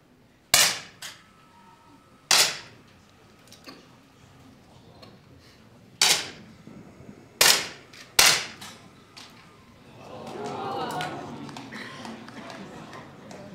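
Sharp air pistol shots in a 10m men's final at a World Cup in Changwon, five crisp cracks spaced irregularly, with a rising crowd murmur or applause swelling near the end.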